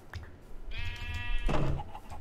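A sheep in a Minecraft Skyblock modpack gives a single clear bleat, a wavering tonal cry that rises into a louder, rougher finish, set against quiet game background with no talk.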